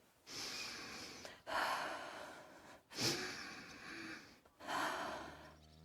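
A wounded patient in the medieval video game Kingdom Come Deliverance 2 takes four deep, rasping breaths, each a close, airy gasp separated by short pauses, faint and alone.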